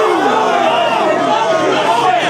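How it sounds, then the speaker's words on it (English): A crowd at an independent wrestling match cheers and chants loudly and continuously, dense overlapping voices rising and swelling together. "the crowd is growing and getting louder all at the same time"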